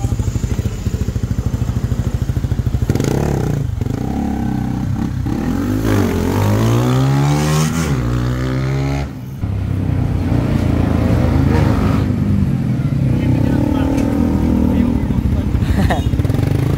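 Suzuki Raider 150 FI motorcycle with a remapped ECU and stock sprocket, revving hard close by in rising and falling sweeps, a brief cut, then more throttle blips, with voices talking over it.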